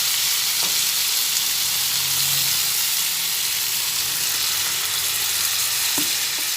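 Steady sizzling and hissing from a hot pan of saffron cauliflower curry with a little water added, with a couple of faint scrapes of a spoon stirring the food.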